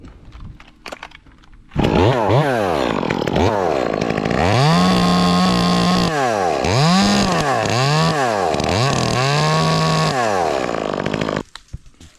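A chainsaw cuts off the top of a tree, its engine revving hard in repeated rising and falling surges at close range, with no talking.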